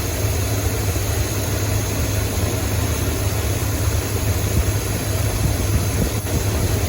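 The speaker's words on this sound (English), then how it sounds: "we decreased the idle on the engine just a bit" Buick engine idling in a C20 Suburban while the Quadrajet carburetor idle is adjusted, a loud, steady, continuous low rumble heard up close with no talking.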